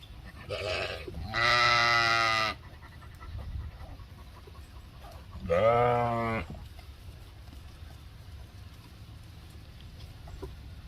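Two loud, drawn-out bleats from registered sheep close by, the second after a short pause, over a quiet farmyard background.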